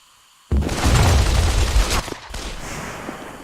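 Gunfire in the Pavlov VR shooter during a competitive match: a sudden loud burst of shots, then rapid fire for about a second and a half, fading into lighter echoing shots.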